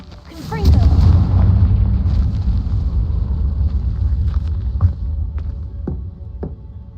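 Confringo spell explosions in the video game Hogwarts Legacy: one deep booming blast followed by a sustained rumbling throb and a few fainter crackling hits as it fades.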